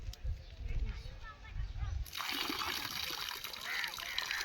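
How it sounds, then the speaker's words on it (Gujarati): Water pours and trickles in a steady splashing stream as an offering at a sun temple, near and continuous, with a change in texture midway. "તમે પહેલા પાણી ચડાવી લો"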